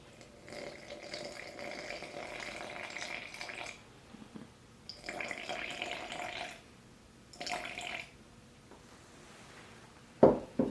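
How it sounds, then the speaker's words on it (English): Warm water pours in several bursts for a sourdough starter, a bright splashing stream that starts and stops between quieter pauses, followed by a sharp clink near the end. "I'm going to put 102 of our warm water"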